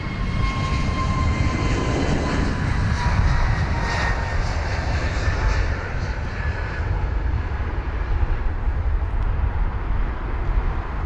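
An Airbus A321neo, British Airways flight BA662, at London Heathrow: a loud, continuous jet engine roar that swells and slowly eases, heard alone without talk.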